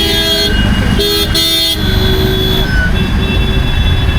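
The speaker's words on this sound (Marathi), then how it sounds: "सकाळी पण एवढी जास्त ट्रॅफिक आहे इकडे" Heavy morning traffic outside a busy Delhi railway station makes a loud, dense rumble of engines, with sustained horn tones blaring in overlapping blasts through the first half and continuing intermittently after.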